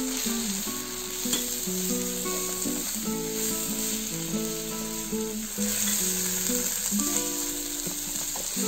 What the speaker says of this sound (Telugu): స్పైసెస్ అన్నీ కొద్దిగా ఫ్రై చేసుకోవాలి.